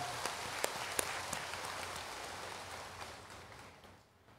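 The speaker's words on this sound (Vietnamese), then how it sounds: "Xin cộng đoàn cho tràng pháo tay" A church congregation at a feast-day Mass claps together in a dense, hissing wash of applause that holds steady, then fades away toward the end.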